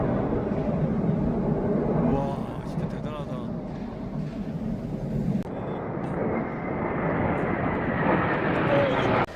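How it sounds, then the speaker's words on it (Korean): Fighter jets fly overhead during training near Samcheok, producing a broad, rising roar that swells and fades through the scene, fairly distant but powerful, while people talk beneath it. "지금 전투기 아 무슨 훈련하는 것 같아요"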